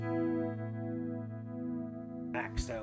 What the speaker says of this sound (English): the green light means I've just added chorus.